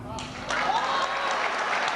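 Audience applause in an indoor motivational event hall, a dense wash of clapping that swells and grows louder partway through and keeps going, with voices mixed in.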